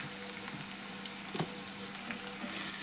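Ingredients for field bean (avarekalu) upma frying in oil in a pan give a soft, steady sizzle with faint crackles and occasional stirring, quiet and close.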